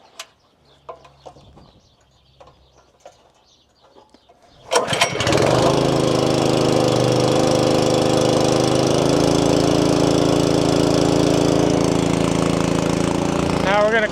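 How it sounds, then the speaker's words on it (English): A pump engine is switched on to mix fungicide spray on an Iowa farm. After a few quiet clicks and thumps, it catches and settles into a loud, steady, droning run that continues to the end. "So we're going to turn on our pump here."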